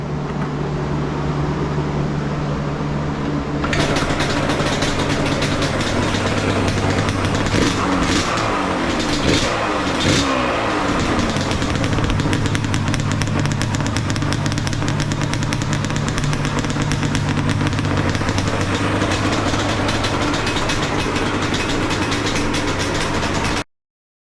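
Blown-then-restored Yamaha Banshee ATV engine cranks and fires about four seconds in, then runs loud and close with a rough two-stroke idle and repeated throttle blips rising and falling for twenty seconds.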